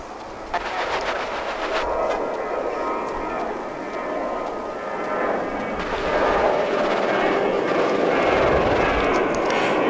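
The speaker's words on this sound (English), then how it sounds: "Finnair Flight 20 to Helsinki is rolling." Finnair airliner at DFW airport rolling down the runway for takeoff, a loud, steady jet engine roar that builds slightly over several seconds, with faint voices in the background.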